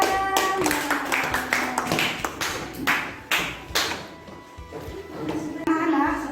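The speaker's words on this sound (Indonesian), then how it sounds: "Tepuk tangan." Children in a classroom clapping together on a teacher's cue, a run of sharp rhythmic hand claps close by, mixed with light room noise and faint voices.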